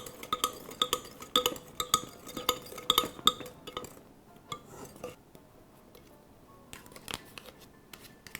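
Utensils clink and scrape in a bowl while lemon juice is stirred into cream, a fast run of bright metallic taps for about four seconds, then slower, sparser clicks.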